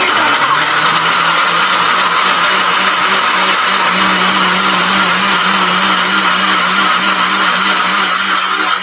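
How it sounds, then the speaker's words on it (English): A kitchen blender blending coconut, a loud, close, steady whirring motor drone with a gritty churning texture that holds constant for several seconds without pause. "I'm blending some coconut"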